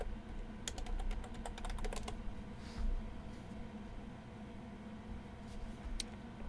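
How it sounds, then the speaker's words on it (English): Typing on a computer keyboard, quick light key clicks in scattered bursts over a steady background hum, fairly faint and close, with no voices. "Let me type it in, you all."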